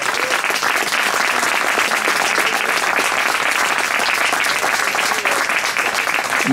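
Dense, loud applause fills a jazz festival hall for a musician, a steady wash of many hands clapping with no pauses.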